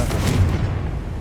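A Confringo blasting spell bursts in Hogwarts Legacy as a loud, low, booming explosion with a muffled rumble that fades over about a second.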